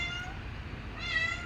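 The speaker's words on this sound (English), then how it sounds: "sorry, cats, shut up" Cats meow indoors in a short, fairly quiet burst, a drawn-out tonal call that rises again near the end, with no talking over it.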